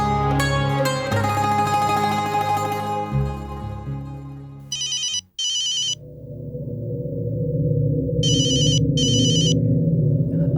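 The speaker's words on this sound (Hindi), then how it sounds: "अरे भाई जी, कब से फोन बज रहा है आपका, उठा तो लो।" Telephone bell ringing in two short bursts, a pause, then two more bursts, loud and clear over a music score that plays throughout a Hindi TV drama scene.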